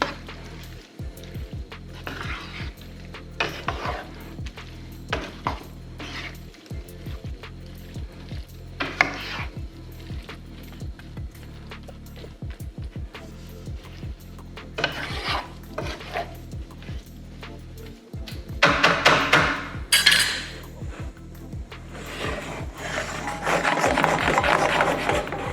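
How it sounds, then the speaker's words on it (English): A spoon scrapes and stirs calabacitas of squash, corn, tomato and chile in a hot pan, steady rhythmic scraping strokes with a faint sizzle underneath, growing busier and louder toward the end; no voices. "And stir it up again."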